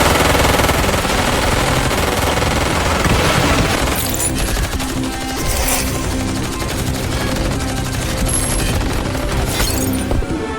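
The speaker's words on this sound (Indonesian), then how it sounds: "Dia diberondong tembakan." Sustained bursts of machine gun fire in an action film ring out loud and dense, with rapid continuous shots layered over booming, crashing impacts.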